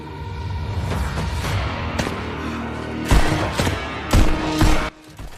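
Gunfire in Fallout 76 on PC: a dense mix of game sound carries a few sharp, loud shot bursts near the end, each with a booming tail, with no talk over them.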